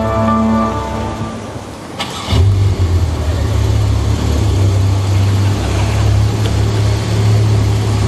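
A Porsche 911 engine cranks and fires at about two seconds, jumping from a low idle into a loud, sustained rumbling rev that holds steady close by.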